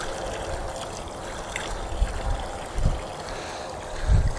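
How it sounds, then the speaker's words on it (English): Tap water runs steadily over raw catfish fillets being rinsed of blood before freezing, a continuous splashing trickle with a few louder gushes near the end, no talking. "the last step in preparing this catfish, we're going to get these fillets rinsed out."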